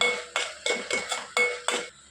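A spoon or spatula scrapes and clinks against a pan while jackfruit seed and drumstick curry with ginger-garlic paste is stirred, in six even strokes close up, with no talking.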